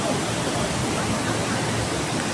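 Water rushing down a stream, a dense steady broadband wash with no breaks, close and fairly loud, no talking.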